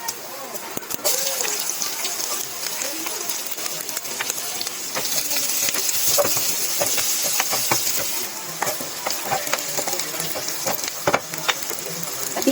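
Garlic sautés and browns in a pan with a steady, bright sizzle and scattered crackles, close and continuous, while a spatula occasionally stirs it.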